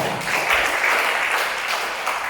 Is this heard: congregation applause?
yes